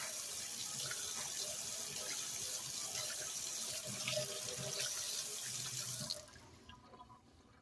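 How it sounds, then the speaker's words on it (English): A kitchen tap runs steadily while a pocketknife blade is washed with soap, a close, even splashing stream that stops abruptly near the end, leaving faint drips. "Just put some soap on there and wash it off good."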